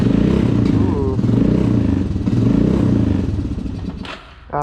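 A Suzuki QuadRunner 230 ATV engine running on a test ride, a close, loud, chugging low rumble that rises and falls, fading near the end.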